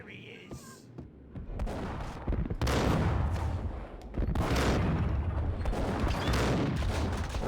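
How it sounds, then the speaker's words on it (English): Shotgun blasts in the Max Payne shooter game: several loud, booming shots with bursts of gunfire, overlapping into a heavy, sustained barrage over low rumbling, with a voice briefly audible early on. "Perhaps a bit long range for a shotgun"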